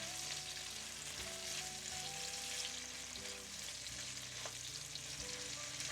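Onions frying in a pan alongside squid, softening as they cook: a steady, close sizzle and crackle running unbroken throughout, with no talking.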